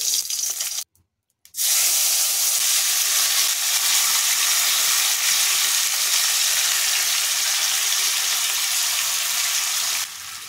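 Marinated chicken pieces drop into hot reddened caramelized sugar, setting off a loud, steady broad sizzle that holds for several seconds after a brief silent gap, with no talking.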